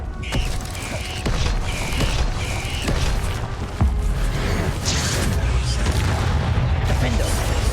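Confringo spell blasts in the video game Hogwarts Legacy, a series of bursts and booms amid continuous battle noise and creaking effects, with a voice calling out spells over the action.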